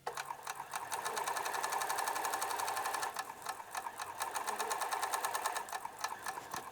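An industrial sewing machine hems the bottom of a 6XL baseball jersey, laying two lines of stitching. It gives a steady, close, continuous whir with a fast rattling pulse, running without pause and with no talking.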